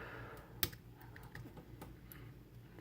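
A small, faint click from a pin while a Wink Haus mortise lock is being picked, one sharp tick standing out among quiet, scattered clicks and scraping.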